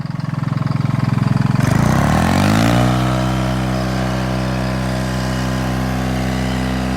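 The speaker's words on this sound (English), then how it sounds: "there's a little 435 Detroit diesel. You can hear it running." A small Detroit 435 diesel engine runs loudly nearby, revving up with a rising roar before settling into a steady, droning idle hum that continues to the end.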